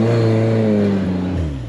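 A rock crawler's engine climbing steep rock slabs, a loud, close, sustained rev whose pitch sags as the load bites, then eases off.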